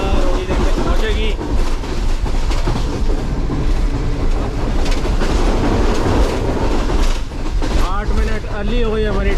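Karakoram Express passenger train on the Karachi to Lahore run, loud steady rumble and rhythmic clickety-clack of wheels over rail joints heard from on board, with occasional squeals and voices talking over the din.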